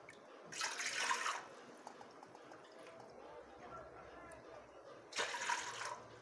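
Water poured from a cup into a cooking pot for soaking sago and potato batter, two separate bursts of splashing pouring with quieter dripping and handling between them.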